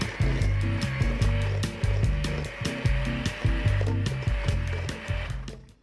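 An electric hand mixer whirs through banana nut bread batter with butter, beaters clattering rhythmically against the bowl in quick repeated bursts, close and fairly loud, with no talking.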